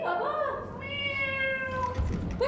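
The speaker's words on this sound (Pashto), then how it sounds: "دا څه میو میو میو کوي" A cat meows in a drawn-out, wavering call, close and clear, with a faint voice and room noise near the end.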